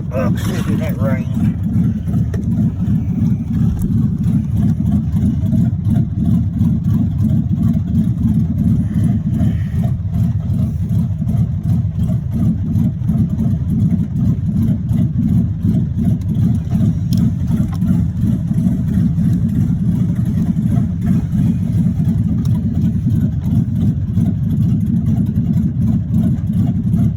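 A 1986 Chevrolet Monte Carlo SS with a rod knock drives along, its engine a steady loud low drone with a rapid pulsing undertone, the car's cabin noise continuous throughout.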